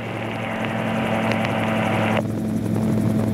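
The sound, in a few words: gyroplane engine and rotor in flight, throttled back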